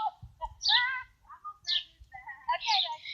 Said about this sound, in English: Here's the baby bird.